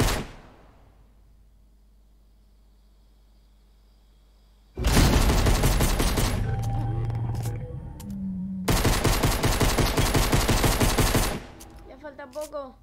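Rapid bursts of gunfire in a video game, loud and close: one long stretch of continuous machine-gun-like firing, a short pause, then another sustained burst that cuts off near the end.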